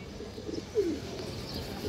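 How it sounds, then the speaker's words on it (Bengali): A silver male pigeon lets out a single short, low coo, close and clear, after which only a quiet room hum remains. "এটা পুরো সিলভার কবুতর দর্শক, এটা সিলভার নর"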